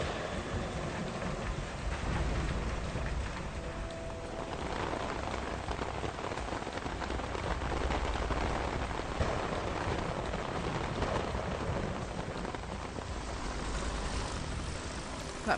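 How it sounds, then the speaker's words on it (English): Steady, dense in-game rain pours down in a video game, a constant hiss of drops on surfaces with no letup, fairly loud and even throughout, no voices over it. "Holy rain effects."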